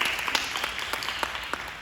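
Audience applause at an employee townhall meeting on a hospital's Highlands Campus: a short burst of many hands clapping, dense and moderately loud, with a few sharper individual claps standing out.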